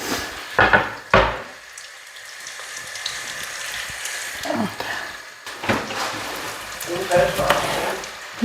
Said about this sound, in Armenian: տապակվեց մի քիչ, գազարն է ավելացնեմ